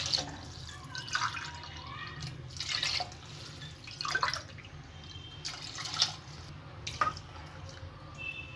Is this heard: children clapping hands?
no